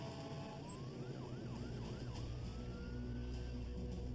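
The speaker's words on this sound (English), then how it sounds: "Emergency vehicles are responding." Emergency vehicle siren wailing as crews respond to the crash of an Asiana Boeing jet at San Francisco airport, a rising and falling tone over a steady loud rumble of engines and vehicles throughout.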